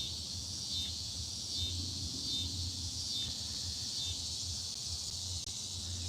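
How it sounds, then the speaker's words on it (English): Cicadas buzz on a summer night in a continuous high, shimmering drone that holds steady throughout at moderate loudness, with a soft low hum underneath and no voices. "We get cicadas every year. To me, this is just the sound of summer."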